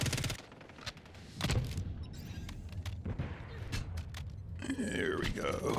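The JAK Decimator gun fires in a video game in short rapid bursts and single cracks, repeated across the clip over a background of game noise.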